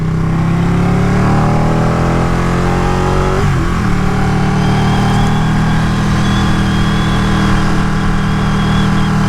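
Ducati 959 Panigale motorcycle engine droning loud and steady while riding, with a brief dip and pitch shift of the revs partway through and heavy wind rush throughout.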